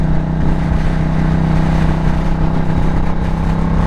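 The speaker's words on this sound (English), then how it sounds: "It's a screamer, because you're in that 5th gear" A Triumph Bonneville America motorcycle engine revs hard in fifth gear, a loud, steady, droning roar that holds without a break, with no voices.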